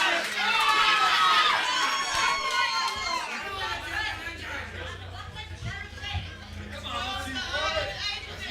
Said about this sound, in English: And this crowd appreciated that. You can hear them.